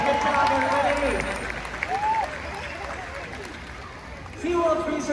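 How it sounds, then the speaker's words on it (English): Audience applause at a SeaWorld killer whale show in Orlando, Florida, spread across a large open-air stadium. Sustained crowd clapping carries through under an announcer speaking over a loudspeaker. "How about a huge round of applause for Malia, Katina, and Nalani, our audience volunteers."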